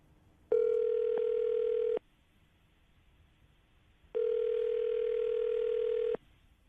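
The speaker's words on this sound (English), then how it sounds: "we'll dial the number. Hope she answers the phone." A telephone rings on the line during a call to a woman: two long, steady ring tones, each about one and a half seconds, separated by a pause of silence.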